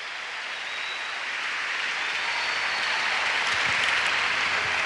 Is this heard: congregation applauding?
yes